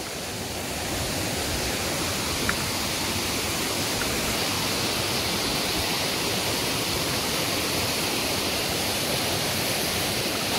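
A river flowing near Didupe Falls, a steady broadband rush of water running continuously and fairly close, with no voices over it.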